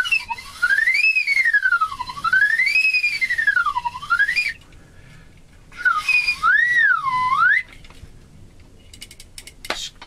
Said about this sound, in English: what you just heard was a slide whistle.